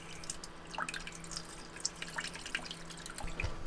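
Salt water from a boat's raw water system drips in small, irregular drops, faint and close in a quiet space with no talk.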